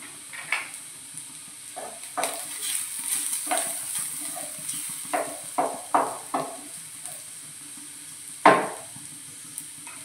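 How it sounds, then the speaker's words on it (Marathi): Onion frying in a pan for tomato chutney, with a steady sizzle under repeated scraping stirs of a spoon against the pan, close and moderately loud, plus one louder clatter near the end. "कांदा परतला आहे"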